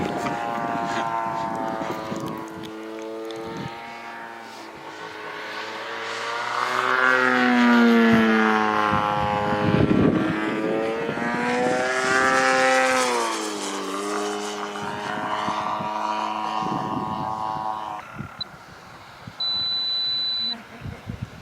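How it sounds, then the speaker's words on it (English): A large-scale model airplane flies at the EPE 2016 fly-in, its engine drone rising and falling in pitch as it passes. People talk throughout. "Nice to see the plane flown as it should be flown."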